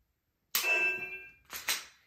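A sharp metallic clang with a ringing ding during Glock pistol dry-fire practice drawn from an inside-waistband holster, followed by a second, softer double metallic click, close and alone in a quiet room.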